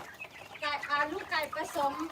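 Domestic chickens cluck in short repeated bursts close by, with several calls following one another and a voice talking around them.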